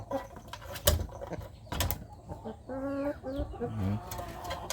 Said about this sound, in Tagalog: Ating Brahma hen si Pipay, 2 kilos and 900.